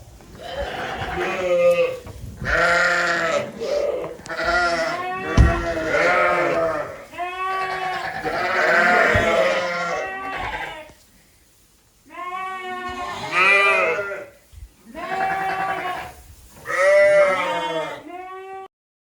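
Sheep and December lambs bleat loudly and repeatedly on weaning day at a small farm, overlapping calls close by in bursts with brief pauses between them.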